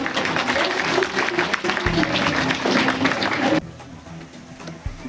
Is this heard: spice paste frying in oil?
no